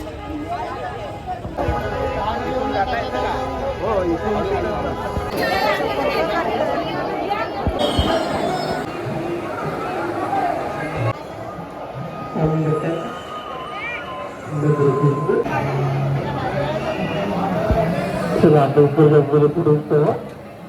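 A dense crowd murmurs and chatters at the Swami Samarth temple in Akkalkot, a steady wash of many overlapping voices with occasional nearer calls and clatter.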